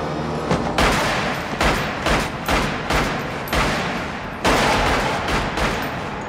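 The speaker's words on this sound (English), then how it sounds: "the fatal shooting of the Jackal at the hands of Mulqueen is a little more graphic" Gunfire from the fatal shooting scene in the film The Jackal rings out as loud, close, sharp bursts repeating in irregular volleys throughout.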